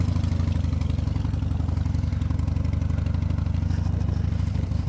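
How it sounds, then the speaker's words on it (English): An air-cooled Harley motorcycle engine idles while warming up, giving a steady, close, low-pitched lumpy throb with a light mechanical clatter and no voices. "I hear that engine warming up"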